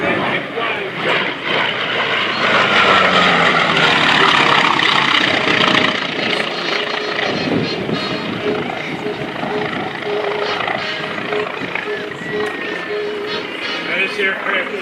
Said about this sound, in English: German FM-2 Wildcat.